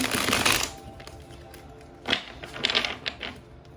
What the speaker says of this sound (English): I be trying to shuffle different ways, but it doesn't always work.